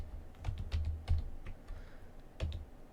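Keys clack on a computer keyboard in short irregular bursts, close and fairly quiet, with brief pauses between keystrokes.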